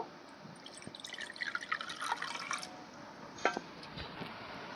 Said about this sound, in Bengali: বাটির মধ্যে কিছুটা জল দিয়ে নেব